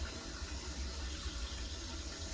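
Continuous rushing, gurgling water flow through radiator heating pipes with trapped air, steady and moderately loud throughout, with no voices.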